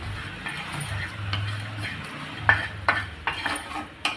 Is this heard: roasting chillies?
yes